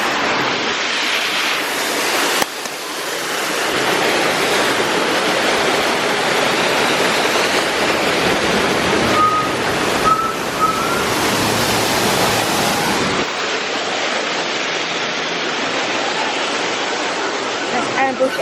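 Fountain water rushes loud and continuous at a Disney nighttime illumination show, a dense steady roar that drowns out a voice speaking underneath, briefly dipping partway through.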